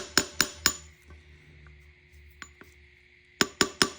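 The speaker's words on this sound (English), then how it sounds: "Get yourself a hammer and try to hammer in that seal perfectly in the middle if it's possible." Hammer tapping a valve cover seal into place on a 2001-2005 Honda Civic: three sharp metallic taps, a quiet lull with two light knocks, then three more sharp taps close by, with no talking.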